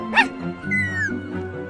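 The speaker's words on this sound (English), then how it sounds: "Got some fine puppies here." Small puppies yip and whimper in a Minecraft Story Mode scene, a few short high barks near the start followed by a rising whine, heard up close with low background music.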